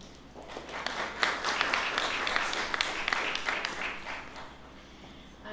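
Audience applause after a poetry reading at a Kearney Street Workshop event, a dense steady crowd clapping that holds for several seconds at an even level with no talk over it.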